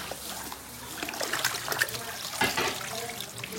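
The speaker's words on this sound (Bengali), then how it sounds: "মাংসগুলো ধুয়ে নিচ্ছেন।" Tap water runs and trickles steadily as raw beef is rinsed for kala bhuna, a North Bengal dish, with faint splashes over a low background hum.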